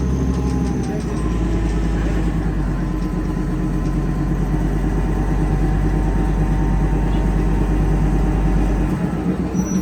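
The Darjeeling toy train stands at a station with its engine idling in a deep, steady rumble that stays loud and constant until it drops away near the end, with faint clatter above.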